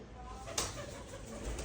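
A pigeon coos softly from its nest inside a room, a faint, low murmur barely rising above a steady background hiss, with one brief louder moment partway through.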